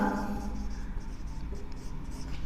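Chalk or marker scratches across a board during a Class 12 physics optics lecture, a dry continuous scraping up close with faint room noise and no speech.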